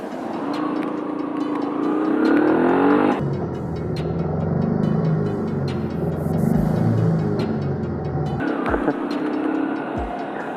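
A motorcycle engine drones steadily while riding, its pitch shifting with gear changes and throttle, with wind noise and no talking.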